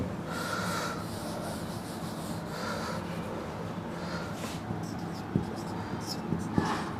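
Scratchy strokes of writing on a board during a physics lesson on concave and convex mirrors, with soft rubbing and a few sharper taps, while a teacher talks quietly.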